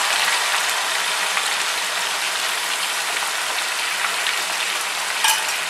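Onion, garlic and ginger paste fries in a pan while being stirred, a continuous close crackling sizzle with faint scraping, steady throughout and without voices.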